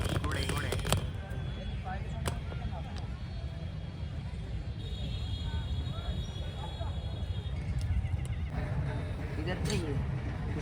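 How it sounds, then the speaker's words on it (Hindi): Horses at the Pushkar animal fair in Rajasthan neigh and whinny amid a busy outdoor crowd, with hoof clip-clops, distant traffic and people talking in the background. "यहाँ से देखो, जहाँ तक नज़र जा रही है सब तरफ घोड़े ही घोड़े।"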